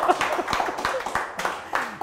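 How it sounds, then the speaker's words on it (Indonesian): A small podcast audience gives short clapping for a guest, several uneven claps over about two seconds, close and moderately loud. "Tepuk tangan buat Caranto"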